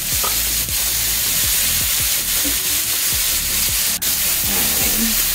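Peppers frying in a pan with marinade browning on the bottom, a loud continuous sizzle and hiss with a steady rhythm of scraping stirs against the pan, close and without talk.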